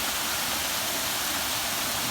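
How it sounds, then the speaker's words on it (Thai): A waterfall gives a constant, dense rushing roar, loud and close, steady throughout with no voices. "น้ำตก"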